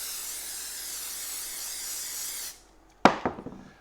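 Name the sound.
spraying glue activator on wooden base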